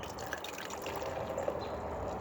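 Milwaukee's Best Light beer pours from a big 32-ounce crusher can in a steady, close liquid stream with fizzing carbonation, no talk over it.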